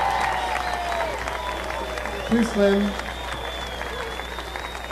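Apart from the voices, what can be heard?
audience applause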